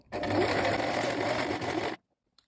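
A sewing machine stitches the V-neckline of a T-shirt, a steady, close and fairly loud run of rapid needle strokes lasting about two seconds before cutting off abruptly into near silence.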